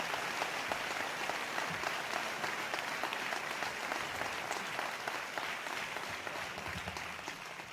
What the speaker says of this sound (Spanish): una vez más, un aplauso para ellos, por favor